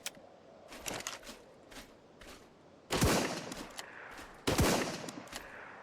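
A modded gun in the ARK video game fired as fast as possible: a run of rapid crackling shots, then two heavier, louder bursts that ring out and decay, with no talking.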